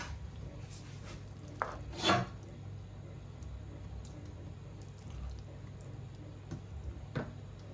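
Mac and cheese is spooned into a baking dish: a few soft, scattered scoops and clunks, with one louder scrape near the middle, set against a quiet, steady kitchen background.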